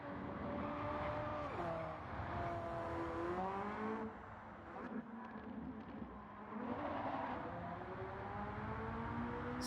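Porsche 918 Spyder with 4.6-litre V8 hybrid engine and two electric motors in Gran Turismo, a continuous engine drone whose pitch climbs through several gear changes, with a short lull midway before pulling again.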